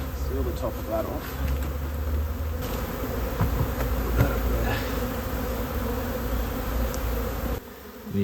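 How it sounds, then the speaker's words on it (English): A swarm of bees buzzes steadily around a hive during a wild swarm rescue, a dense continuous hum close by with scattered faint voices and handling noises underneath. "And you can see that line of bees that's forming."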